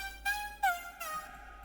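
A Serum synth sound without master tune pitch modulation plays three bright, buzzy stabs with harmonic overtones, fairly quiet, with no voices.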